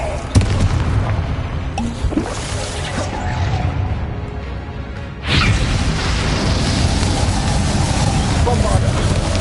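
Confringo explosive spell blasting in Hogwarts Legacy: a sharp loud burst opens, followed by rumbling crashes, then a second blast that leaves a sustained roaring wash of noise.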